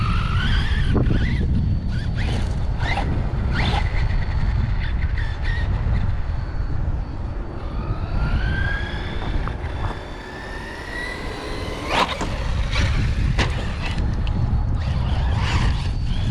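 A Corally Sketer RC truck running on 6S with a Hobbywing Max 8 and 2200kv motor whines at high revs, its motor pitch sweeping up and down as it accelerates, with tire skids and scrapes, loud and close.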